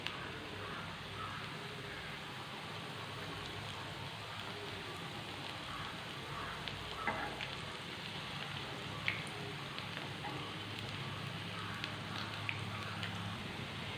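Potato snack frying in oil over a medium flame, a continuous soft sizzle and crackle with small pops, steady and close, with no talk.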